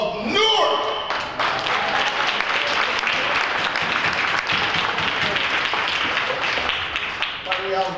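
An audience at a 2014 Black History Month celebration bursts into loud, dense clapping that holds steady for several seconds, with a voice speaking just before it starts and again as it fades.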